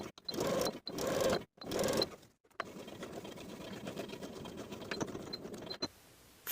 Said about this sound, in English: Top stitch along the left front pant through all layers from the top to the center seam along your line